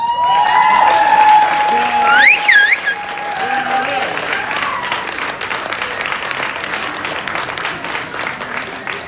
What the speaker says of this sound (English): let's give Billy a nice round of applause